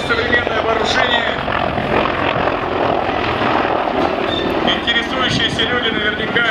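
Heavy transport helicopter able to lift 20 tonnes flying at the MAKS 2017 air show, a loud continuous rotor and turbine roar with a steady chopping texture, while an announcer's voice talks over it.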